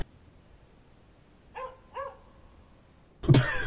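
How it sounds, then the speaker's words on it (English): Two short barks from a dog in the video game Counter-Strike: Global Offensive, close and clear in quiet, followed by a sudden loud burst of gameplay noise. "What the fuck was there a dog on this map?"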